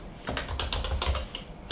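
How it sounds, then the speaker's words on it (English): Quick, light keystrokes on a computer keyboard as shader code is typed, about a dozen close, crisp clicks in an uneven rhythm. "we do that by typing GL"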